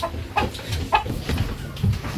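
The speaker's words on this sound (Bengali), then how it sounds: "মুরগি ডিম পারছে, 4টা ডিম পারছে।" A backyard village hen clucks in short, uneven bursts after laying eggs, fairly close and loud against a quiet background.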